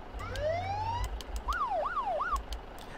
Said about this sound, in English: It has a kind of pretty cool fire light bar up top, and it does have a few sirens